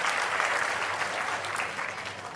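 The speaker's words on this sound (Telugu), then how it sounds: "గట్టిగా చప్పట్లు కొట్టి అందరూ కూడా అభినందించండి" A crowd applauds loudly and steadily at a school event where the state's chief minister praises students, a dense wash of clapping that holds throughout with no speech.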